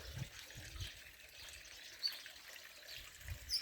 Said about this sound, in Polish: odgłosy tego wodospadu